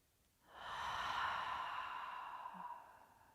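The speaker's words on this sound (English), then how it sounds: "And we'll take 2 big releasing breaths together." A single deep, long releasing exhale during a yoga session, breathy and soft, swelling quickly and fading slowly over a few seconds in a quiet room.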